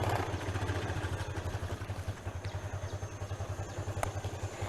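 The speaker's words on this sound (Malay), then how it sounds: "mereka menggunakan taktik memasukkan kayu ke dalam exhaust ini untuk mengurangkan bunyi" Motorcycle engine idling with its exhaust muffled by wood stuffed inside, a low rhythmic pulsing thrum, steady and moderately close, with no talking.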